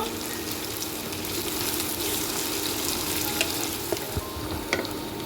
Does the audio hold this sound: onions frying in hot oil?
yes